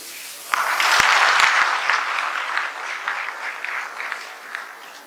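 A crowd at a public speech applauds loudly and continuously for about five seconds, easing off slightly toward the end.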